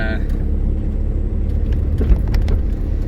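A car engine and exhaust rumble steadily under acceleration, a deep continuous drone with a few faint rattles, heard from inside the vehicle.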